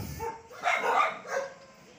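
Several dogs bark and yelp in short bursts, echoey inside an enclosed dog impound kennel, with faint background noise.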